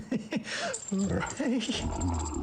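A dog in The Super Mario Bros Movie gives a few short whimpers and whines, close and brief, mixed with film dialogue and other sounds.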